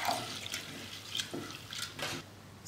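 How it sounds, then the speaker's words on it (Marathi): Raw sabudana (sago pearls) being rinsed by hand in a bowl of water, giving intermittent close splashing and swishing with a faint trickle, loud at first and then softer in waves. "हा आता आपल्याला दोन पाण्याने स्वच्छ धुवून घ्यायचा आहे"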